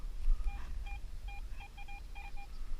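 A Garrett AT Pro metal detector sounds a string of short, evenly pitched signal beeps in a forest dig, the tones coming in quick irregular clusters over a low background rumble.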